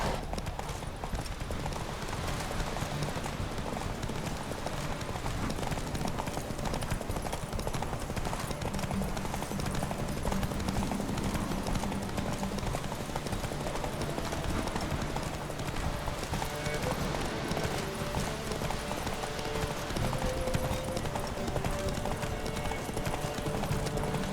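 Roach, Geralt's horse in The Witcher 3: Wild Hunt, gallops with steady, rhythmic clip-clop hoof beats under a dense bed of game music and ambience, loud and continuous throughout.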